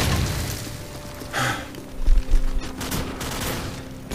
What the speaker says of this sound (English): so you have to throw a frag at me